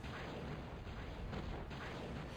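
A fort turret fires in the strategy game Twilight, producing dense, continuous booming artillery fire and blasts that keep a thick, steady roar throughout.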